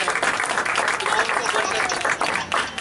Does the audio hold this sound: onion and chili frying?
no